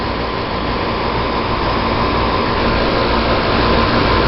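A bench grinder with two sizes of grinding wheel runs steadily while a drill bit is sharpened freehand, giving a continuous loud, even whirring roar with no pauses.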